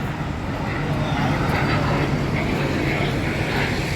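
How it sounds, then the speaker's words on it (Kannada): Aircraft departing Ayodhya airport in the early morning cold, heard as a steady, loud broadband engine roar that persists without breaks, close and continuous. "ನೋಡಿ, ಫ್ಲೈಟ್ ಹೋಗ್ತಾ ಇದೆ ಒಂದೊಂದು."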